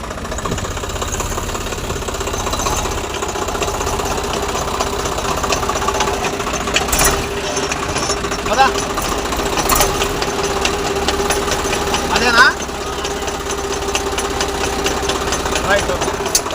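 Swaraj 744 tractor engine running in reverse gear, a steady close mechanical drone with a faint rattle throughout, and people talking over it.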